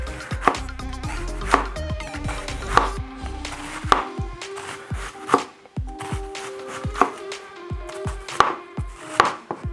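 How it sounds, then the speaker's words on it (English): A red onion sliced with a knife for a doner kebab salad, a steady run of crisp close-up knife strokes knocking on a cutting board, about one per second and with no talking. "Got 1 red onion here, of which I'm going to slice half of it finally to go into the salad."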